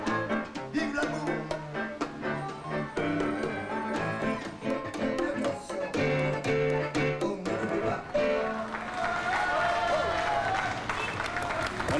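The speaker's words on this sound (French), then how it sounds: "Voilà, faut applaudir là." Studio audience applauding on a French television talk show set, a dense sustained wash of clapping mixed with music and crowd noise throughout, steady and loud from start to finish.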